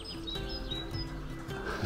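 Woodland birds call in a dawn chorus, thin high squeaky whistles like an old gate repeating several times over soft background birdsong, fairly close and clear.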